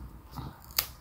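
Scissors snip through card while trimming it to size for a handmade pocket card, a single sharp crisp cut standing out against a quiet room.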